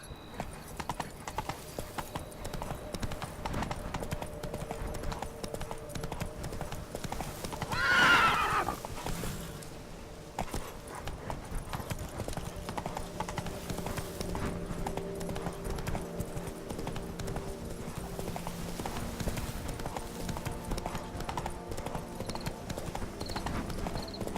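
Horse hooves clip-clop at a steady gallop across open ground in The Witcher 3, with one loud neigh breaking out partway through, all carried over a soft ambient game backdrop.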